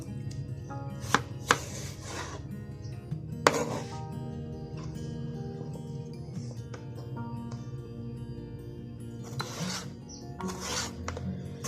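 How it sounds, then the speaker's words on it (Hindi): Peeled potatoes being sliced with a kitchen knife into thick McDonald's-style fries, a few sharp cuts against a board standing out over a steady low background hum, with no talking. "आलू मैंने तीनों छील लिए, इसको अब काटते हैं।"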